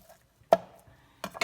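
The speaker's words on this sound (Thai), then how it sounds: "เอาหั่นไข่ หั่นไข่ไปโรย" A few sharp knife taps on a cutting board as an egg is chopped: one crisp chop, a pause, then two quick chops close together.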